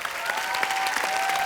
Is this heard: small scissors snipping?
no